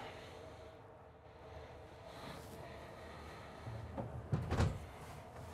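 A closet door in a Newmar Ventana 4037 motorhome slides or swings open with a short scraping rumble near the end, after a quiet room hush.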